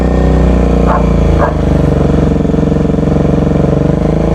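A Bajaj Dominar 400 motorcycle engine is held steady at 3000 RPM during a decibel test, making a loud, close, throbbing single-cylinder drone that runs throughout.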